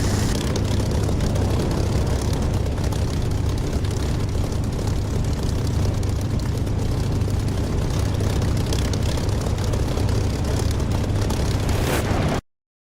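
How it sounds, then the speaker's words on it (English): A steady, loud aircraft engine drone in the DCS flight simulator game, a continuous heavy rumble running unbroken with no talk before it cuts off at the end. "But I think the engine sound is so much better."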